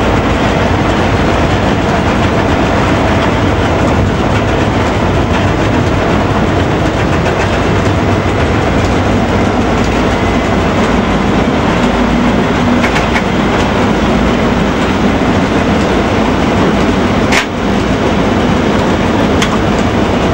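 A Polish railway locomotive hauling a train along the rails at about 120 km/h, a steady loud rumble with rhythmic wheel clatter throughout, heard from the cab.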